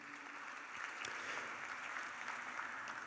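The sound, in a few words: audience applause at a graduation ceremony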